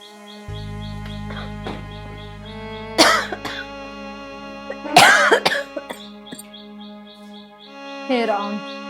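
An elderly woman coughs in harsh, throaty bursts, three separate fits spaced a few seconds apart. A sustained low tone and faint chirpy background sounds carry underneath.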